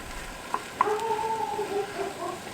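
Carrots and mushrooms sizzle softly in a pan on a van's stove, with a couple of sharp utensil clicks and a faint, steady frying hiss.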